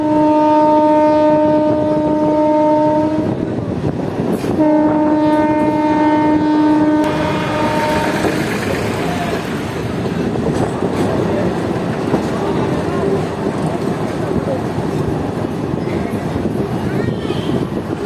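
A train running on the Amghata line sounds a long, loud multi-tone horn in two blasts, then continues with a steady rumbling roll of wheels and carriages, while people talk over it.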